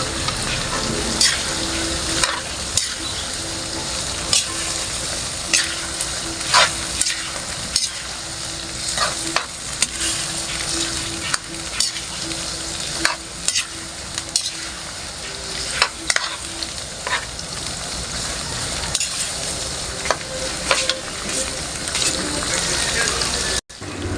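Bitter melon stirred and frying in a pan with shrimp paste, a steady close sizzle with repeated scraping stirs throughout.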